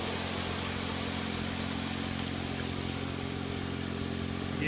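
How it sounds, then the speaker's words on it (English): A small engine on a portable water pump runs steadily at half throttle, a constant mid-pitched droning hum with no change in speed and no voices. "Again, I just got the pump about half throttle."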